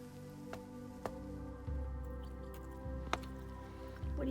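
Rain chain dripping in freezing winter weather beside a chicken coop, with a few sharp irregular drips and taps over a low steady hum, fairly faint and close.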